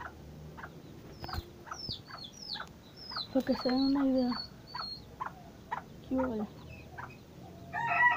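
A white hen, a rooster and small chicks, only about a month old, at a poultry pen give repeated clucks, chirps and short cackles, close by and intermittent, while someone talks between the calls.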